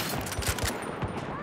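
Rapid gunfire in a tactical shooter game, dense bursts of shots crackling close and loud over a busy background, with a voice briefly audible.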